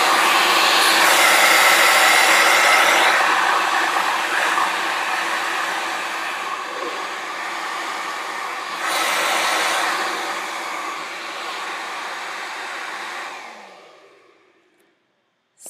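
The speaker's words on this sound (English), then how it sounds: "it definitely is a lot quieter with the end detachment on that makes it quieter than a normal hairdryer" A VS Sassoon 3Q hair dryer runs with its padded nozzle attached, giving a steady, fairly loud airy whoosh that dips and rises slightly before winding down to silence near the end.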